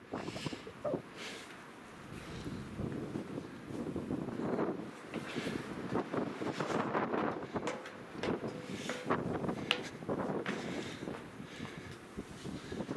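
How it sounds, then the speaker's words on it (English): Wind gusts on an Appalachian Trail mountain path, buffeting the microphone with a roaring rumble that swells and eases across the clip, loud and close with no talking. "Oh, it's windy."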